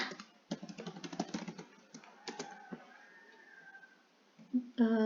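Keystrokes on a computer keyboard while entering data in an Excel spreadsheet, a quick run of clicks early on, then sparse taps and a final press, with faint background hum and brief soft sounds near the end.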